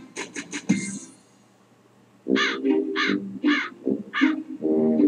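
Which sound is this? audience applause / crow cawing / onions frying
crow cawing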